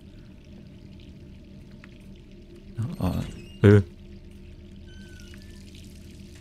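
A brief gush of running water, about a second long, rises out of a quiet low hum and quickly fades.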